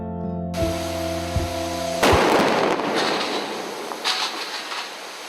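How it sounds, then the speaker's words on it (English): Black powder charges detonated remotely in a granite quarry, a sudden blast followed by a rumbling roar and scattered debris impacts, after a few bright mechanical tones. "These charges are black powder."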